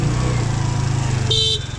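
A motorcycle rider sounds the horn once, a short, loud honk near the end, over a steadily chugging nearby engine on a road trip into Bhutan.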